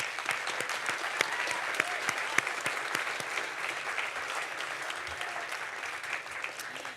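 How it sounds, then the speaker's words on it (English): Sustained clapping from an audience at an opening-night screening event, greeting filmmakers present in the room: dense, even applause with a few crisp claps popping out, holding steady throughout without speech. "I would love to have your help applauding them for their work"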